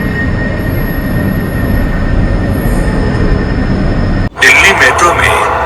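A Delhi Metro train rumbles steadily, close and loud, with a high squealing tone above it; partway through the sound cuts sharply to a different, brighter scene with clattering.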